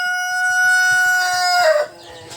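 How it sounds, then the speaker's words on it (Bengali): A Tiger breed chicken gives a loud, drawn-out call up close, ending in a short rough flourish before quiet. "এটা মূলত একটা টাইগার মুরগি"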